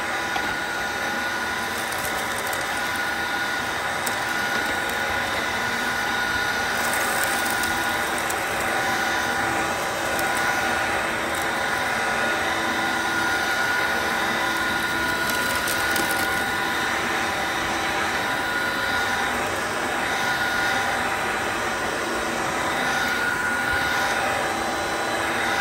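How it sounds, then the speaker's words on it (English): A Dyson DC01 Absolute upright vacuum cleaner runs continuously with a steady whine and airy rush, close and unchanging the whole time. "So that's the DC01 Absolute, and it works absolutely fine."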